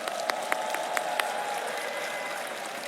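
Audience clapping for a product team during a keynote at a corporate national congress, a fairly faint, even wash of many hands with a few sharper individual claps standing out near the start.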